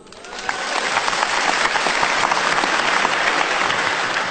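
Crowd applause rises within the first half-second and holds as steady, dense, loud clapping from a large audience at a stand-up comedy show, continuing unbroken to the end.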